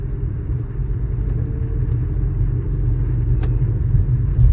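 A car driven at a steady, gentle pace during a driving lesson gives off a continuous low engine and road rumble, close and even throughout with no sharp revving.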